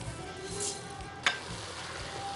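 Rice being stirred into chicken biryani masala in a pan, a soft steady sizzle with a single sharp scrape of the spoon partway through, close and fairly quiet with no voices.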